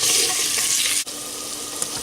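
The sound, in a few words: chopped onions frying in oil in clay handi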